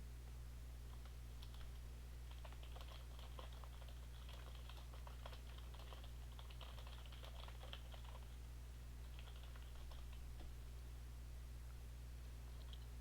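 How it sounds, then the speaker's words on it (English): Quiet, rapid clicking of typing on a computer keyboard patters in irregular bursts over a steady low hum, faint and close throughout. "I really want to test my words per minute. The typing."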